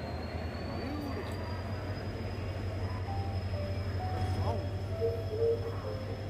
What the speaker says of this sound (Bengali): আপনারা দেখতে পাচ্ছেন ডিজেল লোকো দিয়ে, WDP4 দিয়ে ট্রেনটাকে শান্টিং দেওয়া হচ্ছে।